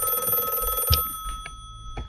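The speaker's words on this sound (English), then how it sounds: "Phone's ringing again." A telephone bell rings in a game-style scene, an electronic trill that stops after about a second, followed by a few faint clicks and tones.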